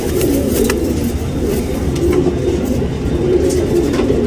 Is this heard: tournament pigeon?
yes